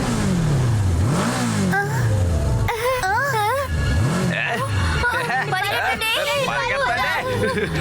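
An engine revs up and down repeatedly in rising and falling sweeps, close and loud, with excited voices talking over it.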